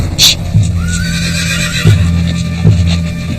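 Spanish cavalry horses whinny loudly in a dry, stony riverbed, with a couple of heavy hoof thuds and clopping beneath a steady low rumble.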